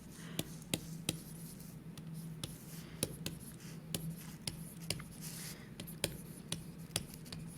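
A pen writes out a line of metric prefix letters, with faint scratching strokes and sharp taps recurring at an irregular pace, close and quiet with no talking.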